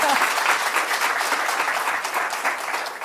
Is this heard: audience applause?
yes